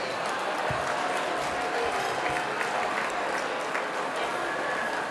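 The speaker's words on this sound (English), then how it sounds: "Please give yourselves all a round of applause." Banquet guests at a hotel dinner applaud together, a broad, continuous wash of clapping from a large room that holds an even level throughout with faint crowd murmur beneath.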